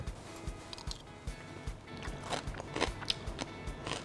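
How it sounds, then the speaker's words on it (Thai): Crispy pork skin from a stir-fry with green curry paste being chewed up close, a steady run of crunchy bites and crackles in a regular rhythm, with no talking. "เคี้ยวหนังหมูกรอบได้ยินถึง"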